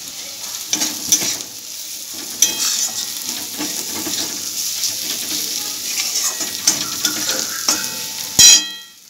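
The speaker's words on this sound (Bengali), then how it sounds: "পেঁয়াজগুলো খুব ভালো করে ভেজে নিয়েছি। এরপর আমি এর মধ্যে দিয়ে দিচ্ছি হলুদের গুঁড়ো" Fried onions being stirred in a pan with turmeric, coriander and cumin powder: a steady sizzle of frying with scraping stirs and occasional taps of a utensil against the pan, close up and without talk.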